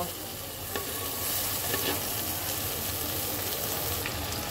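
Cauliflower, new potatoes and peas sizzle steadily while being stirred and fried in a pan for a curry, a continuous close hiss with occasional scraping of the spoon, no voices.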